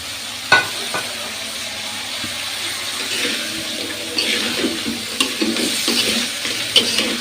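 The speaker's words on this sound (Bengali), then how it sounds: "এবার এর সাথে বড়িগুলোও দেব যাতে কষানো হয়ে যায় এতে দিয়ে দিলাম বড়িগুলো" Lentil dumplings (bori) are added to a frying rui fish curry with potatoes, giving a steady sizzle with a few sharp clinks and stirring scrapes, and a louder bubbling patch toward the end.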